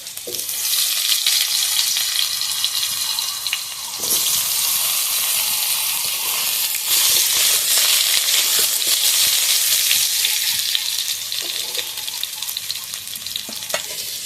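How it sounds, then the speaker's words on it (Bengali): Cut potatoes fry in hot oil with a loud, continuous sizzle and crackle, occasionally shifted or stirred, the bubbling steady throughout with no voices. "এর মধ্যে আমি কেটে রাখা আলু ভেজে নেবো ভালোভাবে।"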